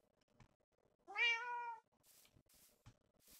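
A cat in the Minecraft video game gives one clear, rising-and-falling meow lasting under a second, close and distinct, set among a few faint clicks and soft hissy game noises.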